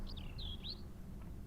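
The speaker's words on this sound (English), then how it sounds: "I think you guys can probably still hear the birds chirping from the game." Birds chirp in daylight ambience of the video game Broken Sword Reforged, a few quick faint tweets in succession over steady low background hum.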